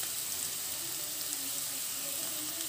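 Onions and ponnaganti leaves frying in oil in a pan, a steady soft hiss and crackle that runs without a break for a few seconds, close and fairly quiet.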